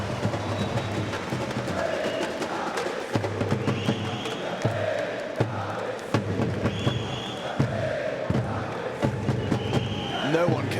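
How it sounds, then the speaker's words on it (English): Large Brazilian crowd at a Counter-Strike Major match in Rio (Spirit vs. FURIA, Mirage), a steady roar of cheering and chanting with rhythmic thumps, continuous and loud throughout, with a commentator's voice underneath. "No one can deny that this Brazilian crowd has given us something rather unique."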